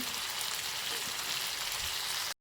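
Tandoori chicken pieces fry in hot oil with a steady, dense sizzle and crackle, close and even for the whole stretch before cutting off abruptly at the end.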